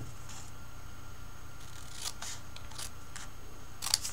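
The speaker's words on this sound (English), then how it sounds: "you're just going to cut right in the ditch, the left side of the ditch, and cut away these corners" Scissors snip the corners off a paper envelope in a quiet room, giving several brief, crisp cutting sounds spaced irregularly and fairly faint over a low background hum.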